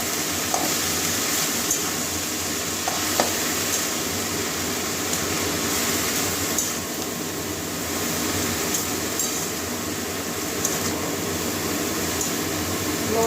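Mustard greens frying and being stirred in a pan for a Bengali shak bhaja, a steady broadband sizzle with occasional scrape and clink of the spatula, continuous and close throughout.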